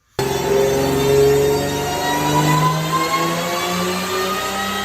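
Supercharged Ford Thunderbird SC engine starts abruptly and revs, a loud steady drone with a slowly rising pitch that holds for several seconds, close by with no talk.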